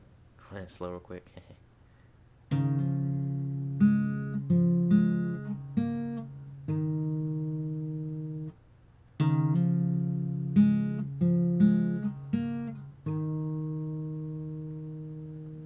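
Slow fingerpicked acoustic guitar playing a part from a song, thumb and index finger plucking separate notes that ring and sustain, close and alone, after a short soft noise at the start.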